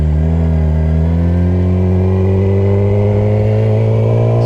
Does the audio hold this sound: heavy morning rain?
no